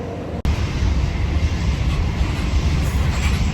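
A train at a station in Rome gives a steady, loud rumble with a sustained high whine, starting after a brief sharp cut and continuing without pause.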